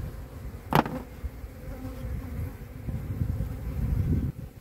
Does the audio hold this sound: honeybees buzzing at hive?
yes